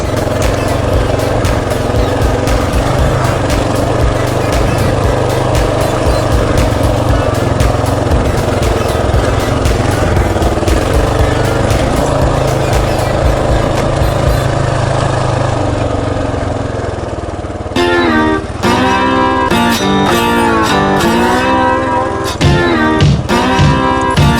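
An old motorcycle engine chugs steadily while climbing a hill during a spring ride, with a loud, continuous low rumble up close that breaks into uneven, choppy bursts of throttle toward the end.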